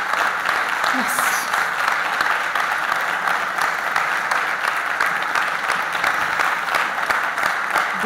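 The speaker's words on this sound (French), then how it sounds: "Elle mérite ces applaudissements, mesdames et messieurs." Conference audience gives sustained applause after a speech at a summer university event, dense even clapping that fills the room from start to finish without a break.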